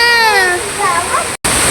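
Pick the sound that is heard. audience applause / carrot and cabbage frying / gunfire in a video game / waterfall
waterfall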